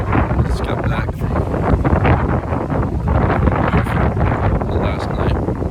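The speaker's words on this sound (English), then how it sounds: "breezy. It's cool, but it's not cold." Gusty wind buffets the microphone outdoors on a cool, breezy day, a continuous, loud rumbling whoosh with a voice partly buried beneath it.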